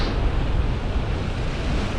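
Sea waves washing over a flat rock platform on a fishing shore, a continuous close wash of moving water with wind buffeting the microphone, steady and moderately loud with no voices.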